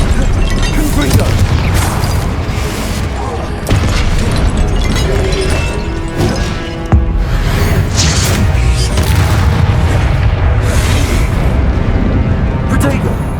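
Confringo blasting spells exploding in Hogwarts Legacy, a sustained barrage of loud booms and crashing impacts with sharp bursts at intervals, with voices casting spells over the noise.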